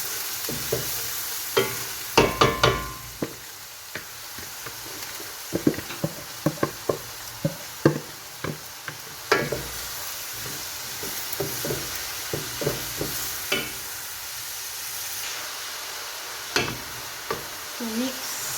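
Onions for laham sambusa with corn fry and are stirred in a pan: a steady sizzle runs throughout while a spoon knocks and scrapes in bursts of sharp clatter, close and fairly loud, with no talk.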